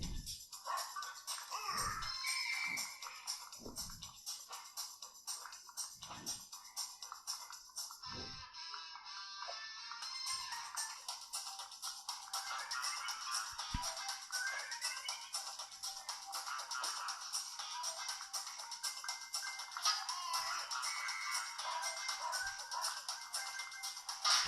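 Tinny PUBG game music and effects play continuously through the small speaker of an Infinix Hot 7 Pro phone, bright and thin, with occasional soft thumps and handling noises underneath.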